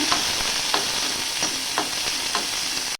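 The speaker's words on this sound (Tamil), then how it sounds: "பேனில் ஆயில் ஊற்றிக்கோங்க. சின்ன வெங்காயம் நல்லா ட்ரை பண்ணிக்கோங்க." Small onions sizzle steadily as they fry in hot oil in a pan, with several soft stirring scrapes spaced through the continuous crackle.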